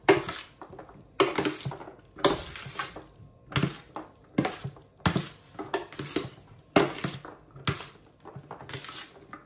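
Roasted vegetables with their juices being mixed in a dish, giving repeated clinking and scraping strokes of a utensil against the dish in a steady rhythm, close and fairly quiet, with no talking.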